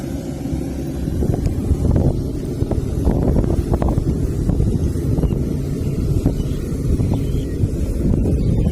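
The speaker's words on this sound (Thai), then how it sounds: "ลมแรงครับพี่น้อง" Strong wind buffets the microphone in a rice field during harvest season, a loud, continuous low rumble with gusty bursts throughout and no talk.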